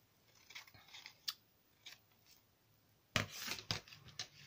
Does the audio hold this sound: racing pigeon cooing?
no